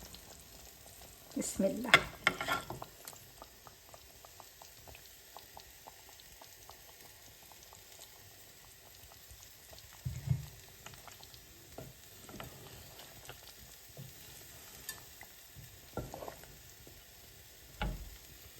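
Pangas fish frying with ridge gourd in a pan hisses and sizzles softly and steadily, broken by a few louder bursts of stirring and clatter; a brief spoken word is heard near the start.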